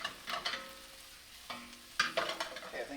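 Onions cooking in a pan for Indian chicken tikka masala, with steady soft frying hiss broken by a few sharper scraping stirs of a utensil against the pan, fairly close and without talk.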